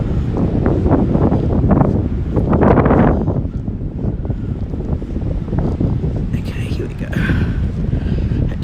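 Wind gusts buffet the microphone on a rocky beach at sunrise, a broad low rumble running steadily throughout, with a person speaking over it early on.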